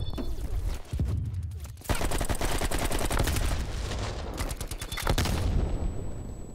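Rapid bursts of automatic gunfire from Black Ops Cold War, AK-47 gameplay, crackle loud and close through most of the stretch, with short pauses between volleys.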